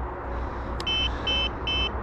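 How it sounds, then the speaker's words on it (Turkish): A metal detector gives three short, evenly spaced beeps on power-up, bright and close, over a low background hum. "Cihazımızı açtık. 3 tane bip sesi geldi."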